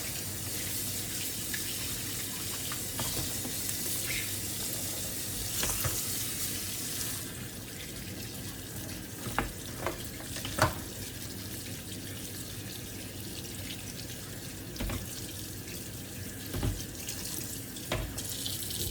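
Vegetables for pho are rinsed under a running kitchen tap, a close, continuous splashing rush of water with occasional clunks and knocks in the sink.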